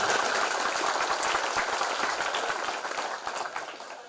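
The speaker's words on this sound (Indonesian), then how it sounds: "Tepuk tangan dulu." Audience applause at a pesantren gathering during a police community visit, steady dense clapping throughout that thins slightly toward the end, fairly loud and close with no voices on top.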